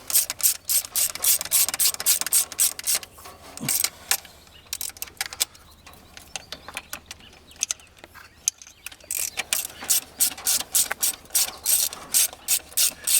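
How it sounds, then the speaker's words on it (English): A 1/4 inch ratchet clicks through rapid, repeated bursts of pawl ratcheting while snugging carburetor bolts on a 1981 Mustang 5.0, close and crisp with short pauses between runs. "Tonight I'm using my 1/4 inch ratchet because you don't need tons of torque on these carburetors to hold them down."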